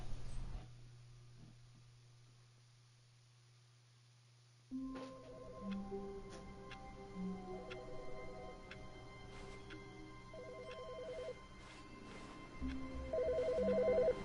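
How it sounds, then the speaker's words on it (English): Telephone ringing in the video game The Stanley Parable: a quiet low hum gives way to a ringtone-like sequence of short repeated electronic tones with faint ticking, soft and steady, no one talking. "I'm getting a phone call."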